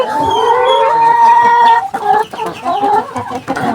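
Layer hens cluck and cackle up close, a loud drawn-out call giving way to choppy, repeated clucks from the birds.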